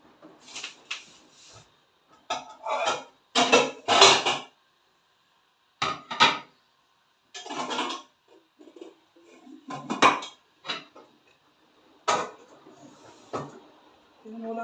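Clattering metal knocks and scrapes as a pot is moved and set down, in irregular bursts with pauses between, fairly close.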